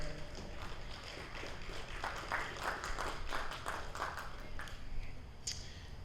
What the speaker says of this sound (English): give all these exhibitors and market goats here tonight a big round of applause for their hard work